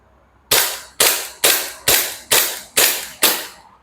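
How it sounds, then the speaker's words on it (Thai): Seven sharp, snappy shots from an Umarex/KSC HK USP.45 Match airsoft pistol fired one-handed one after another at a steady, quick pace, each a crisp crack with a short decay, close and loud. "ขออนุญาตเทสยิงมือเดียวนะครับ"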